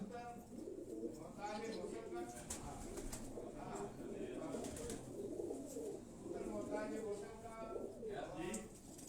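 Pigeons, prized Asil high-flying birds, coo continuously close by in overlapping throaty calls, while men converse in the background.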